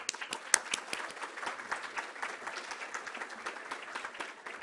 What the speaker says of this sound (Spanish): Un fuerte aplauso para los dos, por favor.